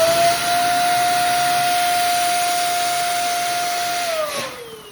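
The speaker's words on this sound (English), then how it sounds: "or you can use the electric pump." Electric pump inflating a balloon, a loud steady motorized whine held close and unbroken for about four seconds, then dropping in pitch as it winds down.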